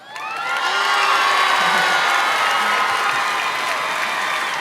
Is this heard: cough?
no